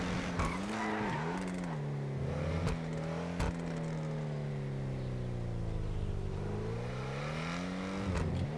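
A car driven in GTA roleplay, its engine droning steadily and rising and falling in pitch as it revs, with brief clicks and a squeal of tires over a continuous road rumble.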